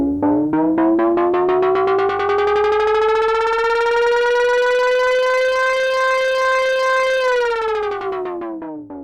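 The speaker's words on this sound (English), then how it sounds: "I've got riser 1, which sounds like this." Synth riser preset on an Arturia MicroFreak synthesizer, a loud bright tone sweeping steadily upward for about seven seconds, then dropping and fading alone.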